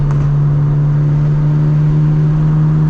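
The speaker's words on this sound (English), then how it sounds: "I'm driving the car pretty hard with new transmission, new suspension" Mazda RX-7 FC with new transmission, suspension and exhaust driven hard on a mountain touge road, its rotary engine holding a loud, steady drone close up, with no talking.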